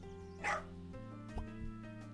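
A small rescued puppy gives a single sharp yip, then a couple of fainter whimpering barks, heard close against a steady low hum with no talking.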